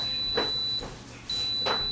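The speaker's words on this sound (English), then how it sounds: "I just want you to hear those beeps." Two bright electronic beeps from a Wolfgang Puck 2-pound bread maker on its ultra fast cycle, spaced about a second apart, with a steady faint tone and room hum in between.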